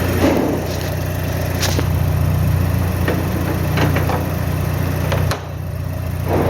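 A 25k-mile 2006 Mazdaspeed6 engine idles after startup with a steady, close, low rumble and a faint hiss. Near the end a brief dip and a thud break the sound before the idle carries on.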